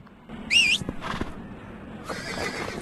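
A horse whinnies sharply in the Android game West Gunfighter, followed by a few soft hoof clops and a steady background hiss.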